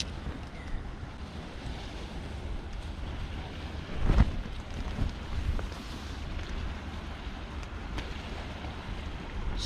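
Steady outdoor wind noise on a cold riverbank of the River Humber, gusting to about 22 mph, rumbles and buffets the microphone throughout, with one brief louder gust near the middle.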